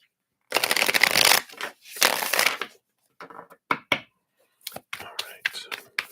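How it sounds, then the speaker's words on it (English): Tarot cards are riffled and shuffled in several quick bursts, close by, followed by softer handling and tapping of the deck. "Let's shuffle this up again."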